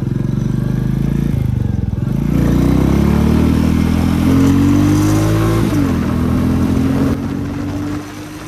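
Royal Enfield Classic 350 (2022 Reborn) motorcycle accelerating: a loud, close thumping single-cylinder engine rises in pitch through a gear, drops briefly, then climbs again before easing off.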